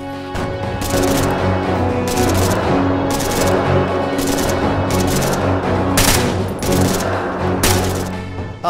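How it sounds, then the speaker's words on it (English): Loud, close gunfire from a team in the ARMA 3 video game, dense bursts of rapid shots over several seconds with repeated sharp cracks and no pauses in between. "Open fire, team 2, open fire."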